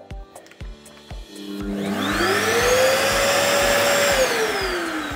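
A household vacuum cleaner powered through a Parkside remote-controlled 230V socket starts up after a few clicks, its motor whine rising in pitch and settling into a steady, loud hum close by, then dipping slightly near the end.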